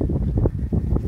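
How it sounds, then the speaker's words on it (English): Gusty wind buffets the microphone on an outdoor allotment garden, a steady low rumble that swells and dips in uneven pulses with no talking. "Quite windy today."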